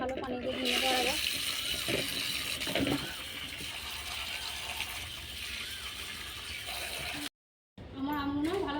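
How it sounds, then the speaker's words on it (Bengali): Raw mangoes washed under running tap water for pickle, a steady close splash and trickle with a short gap near the end and a voice talking over it. "ভালো পানি দিয়ে ধুয়ে নেবো আর আগে।"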